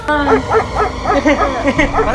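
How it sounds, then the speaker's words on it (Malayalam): A dog gives a run of short, rhythmic yips and barks close by around a large house in a residential area, about eight quick calls in a steady series. "പട്ടിയൊക്കെ ഉണ്ടല്ലേ ഇവിടെ ചുറ്റും?"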